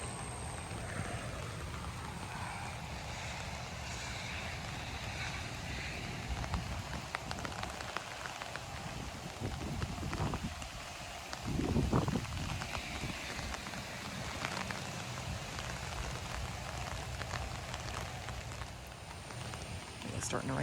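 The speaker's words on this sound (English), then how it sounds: "starting to rain again. More so than it was." Rain from Tropical Storm Debby in South Carolina falls steadily on surfaces outdoors, a dense continuous patter and hiss with a brief louder splash near the middle.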